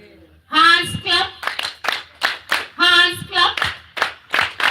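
A group claps hands together in a repeated double-and-single rhythm, sharp bursts alternating with a chanting voice.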